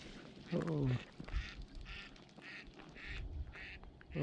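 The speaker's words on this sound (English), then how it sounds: "there's some ducks." Ducks quacking by a lake at Canyon Lake, Texas, a few short bursts at moderate distance, mixed with outdoor background noise and a person's voice nearby.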